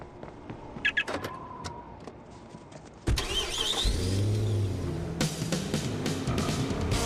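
In the video game Watch Dogs, a car gives a few light clicks and rattles, then its engine cranks and catches loudly and settles into a rumbling idle with rising revs.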